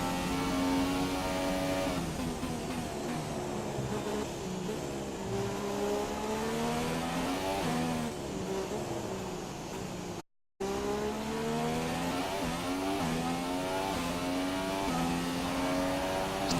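A race car engine in an F1-style racing video game drones loudly and continuously through practice laps, its pitch rising and falling with gear changes and revs, with one brief dropout midway.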